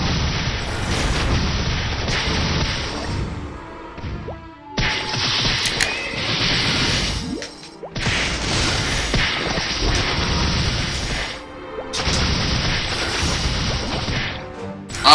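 Loud, repeated explosions and crashing impacts in an action video game with rune and elite boss curses, coming in dense bursts roughly every few seconds with brief gaps between them, and no voices over them.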